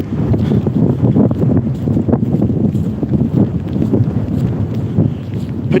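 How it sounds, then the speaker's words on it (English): Strong wind on a morning walk buffets the microphone in continuous loud, rough gusts with no pause throughout. "it's getting pretty windy at the moment."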